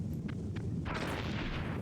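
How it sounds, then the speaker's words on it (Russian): An explosion in the video game Metal Gear Solid, heard as a dense, rumbling burst with a couple of short crackling pops before it, sustained loudly through the short clip with no talking. "Взрыв?"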